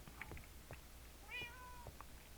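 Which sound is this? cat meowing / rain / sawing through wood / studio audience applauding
cat meowing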